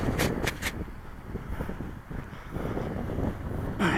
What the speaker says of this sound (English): it's really getting windy, isn't it?